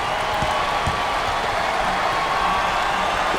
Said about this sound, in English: Listen to the crowd. You can cut the intensity with a knife.